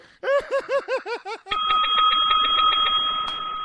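Bell sound effect on a game show: a rapid run of about eight ringing warbled tones, then a sustained bright bell tone ringing for about two seconds with faint voices beneath.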